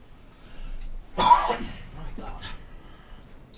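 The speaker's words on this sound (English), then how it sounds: "Bloody cough." A single sharp cough with a throat-clearing rasp right after, close to the microphone, rising out of quiet surroundings with a quick follow-up clearing.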